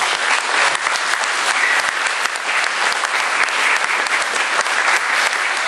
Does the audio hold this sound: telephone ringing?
no